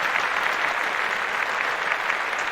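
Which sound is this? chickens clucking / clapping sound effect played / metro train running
clapping sound effect played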